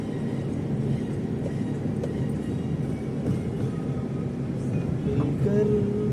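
A train rumbles and clatters at Mumbai's Chhatrapati Shivaji Maharaj Terminus, a crowded station lit up for Independence Day, with a steady low drone, faint squeals and murmuring voices around it.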